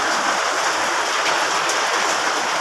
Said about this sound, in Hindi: ओले पड़े हैं बहुत ज़बरदस्त और मेरी चादरों पे आवाज़ आ रही होगी आपको